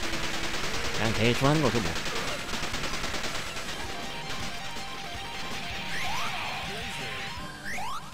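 Rapid auto-fire gunshots from the arcade shooter Metal Slug 2, a dense rattling barrage mixed with game explosions and effects, with someone talking over it.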